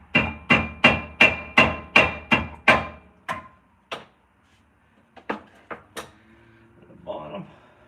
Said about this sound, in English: You can give them a smack with the hammer,